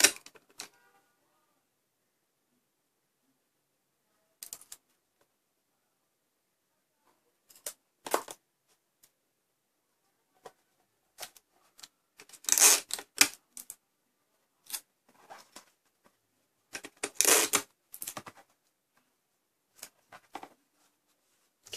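Tape tearing and being pressed onto a cardboard model of a Fortnite burst assault rifle comes in sharp, scattered bursts separated by silent gaps, loud and close, with no talking.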